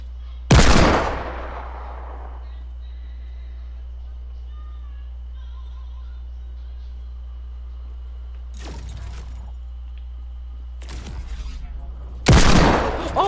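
Sharp, loud shotgun blasts go off in a PS4 shooter game: one near the start, then three more spaced out toward the end, each cracking out over a quiet low hum.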